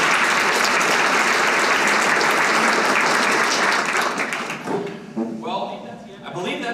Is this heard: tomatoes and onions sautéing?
no